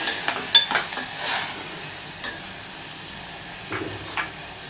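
Vegetables for a vegetarian chop suey with lemon juice and tomatoes sizzle gently in a pan, with a few scraping stirs standing out over a steady soft frying hiss.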